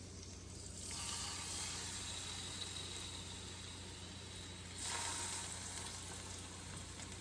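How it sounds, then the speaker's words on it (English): Salmon fillets laid face down in a hot pan with oil give a steady, close frying sizzle, a broad hiss that swells louder for a moment twice, with no talking. "put your salmon into a hot pan with oil"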